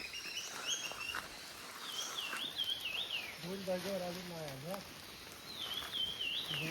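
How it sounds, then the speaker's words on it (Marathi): Birds calling in a dense forest, with thin whistled chirps and trills repeating through the clip, set against steady ambient background noise and a brief lower warbling call in the middle. "चला नुसतं पक्ष्यांचा आवाज."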